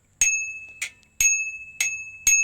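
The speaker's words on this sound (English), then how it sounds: "the other thing is this bell is a little bit poor" Cheap bell on a $150 Kmart Copenhagen commuter bicycle, rung five times in a steady rhythm, each a bright, close, ringing ding that fades quickly, with no talk.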